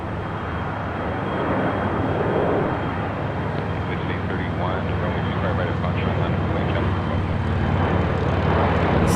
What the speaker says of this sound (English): It's an A320 Neo.